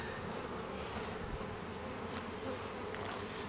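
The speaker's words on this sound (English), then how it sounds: "Do not want to step on any bees." Honeybees buzz steadily around an open beehive during an inspection, a dense, continuous insect drone that holds close and even throughout, with no talking.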